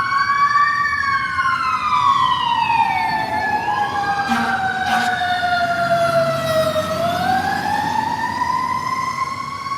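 Fire engine siren wailing loudly downtown, its pitch rising and falling in sweeping glides as the truck passes close by, with a brief horn-like burst near the middle.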